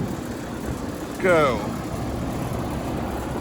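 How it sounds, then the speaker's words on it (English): A steady mechanical drone of an air compressor runs continuously in the background, while a voice briefly speaks a single word over it. "Sorry for the noise, it's the damn compressor."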